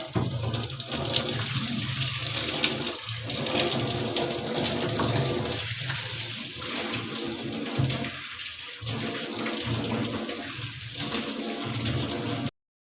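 Pieces of blouse cloth are soaked and washed in water, with a steady running-water rush under irregular splashing and sloshing as the fabric is handled, close by and without speech.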